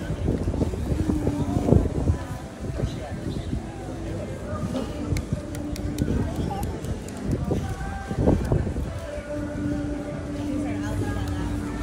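Steady wind buffets the microphone at a packed Hawaiian beach, a continuous broadband rush with gusts, mixed with distant crowd chatter and people talking nearby throughout.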